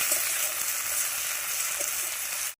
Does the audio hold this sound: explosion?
no